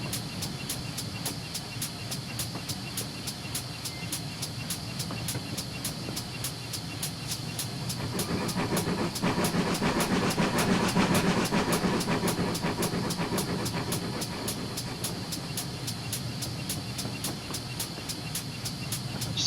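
A GWR Hall steam locomotive in a train simulator video game runs at steady speed, with a continuous rumble and hiss and regular rail clicks that swell in the middle before easing back.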